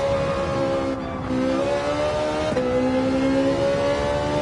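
A Ferrari 458 Italia in Gran Turismo 7 revs hard and steadily, its engine whine climbing in pitch through gear changes, loud and close for about four seconds with no talk.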